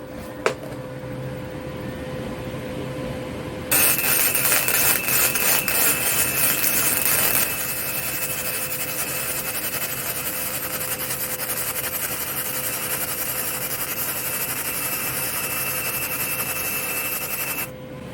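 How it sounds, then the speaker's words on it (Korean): Gasless flux-core wire welding with a swapped-in domestically sold wire: after a short quiet start, a loud, steady, crackling arc hiss switches on and runs unbroken to the end, slightly softening partway through. "이번에는 제가 국내에서 유통되고 있는 그 A사의 용접봉을 이제 갈아 껴서 그걸로 이제 용접을 한번 해보겠습니다."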